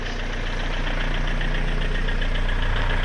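A Renault Trafic van engine runs steadily after a gearbox replacement, with a loud, close, continuous idling rumble and a knocking vibration and no break.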